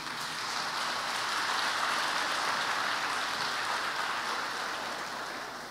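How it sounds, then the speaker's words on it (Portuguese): Church congregation applauding during a Sunday service, a steady dense wash of clapping sustained for several seconds without any gaps. "Dê um aplauso ao Senhor."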